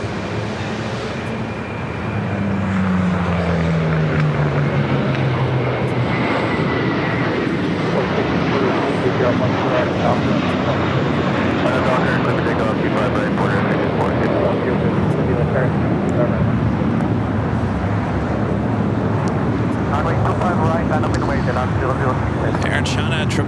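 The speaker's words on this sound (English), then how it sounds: "JetBlue A321 heading to JFK, now taking off 25 right." A JetBlue Airbus A321 bound for JFK takes off from runway 25 right at LAX. A sustained, heavy engine roar builds after a quieter opening and holds loud for the rest, with voices talking over it.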